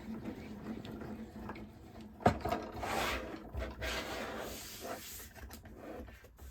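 A cutting mat loaded with a strip of fabric is rolled through a fabric cutter, making a close grinding, rubbing mechanical rumble with a sharp clack near the middle, then steady rolling friction.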